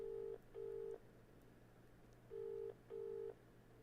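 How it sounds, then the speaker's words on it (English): A UK-style telephone ringtone in the horror video game Dead Take: four steady tone bursts in two paired groups with a gap between, clear over a low hum, with no talk. "that dial, that ringtone, that's the one that's what you hear in the UK"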